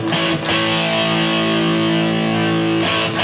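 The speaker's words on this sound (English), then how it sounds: "You can keep it here as kind of a little bit more of a kind of a traditional, just a dirty tube amp" Heavily distorted electric guitar through a guitar amp app set to a dirty tube-amp tone, a loud sustained chord ringing with fuzzy harmonics, briefly restruck near the start and again near the end, with no talk.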